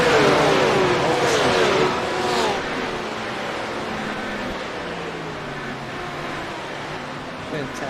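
GT3 and GT4 racing cars roar around the Virginia circuit in a sim-racing league broadcast, engines revving loud and close, then settling into a steady, continuous drone under race commentary.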